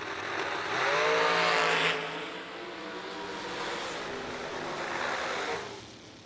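Drag race cars roaring down the strip in a TB Promotions Friday pairing, a loud broadband engine rush that swells, eases slightly and builds again before fading at the end.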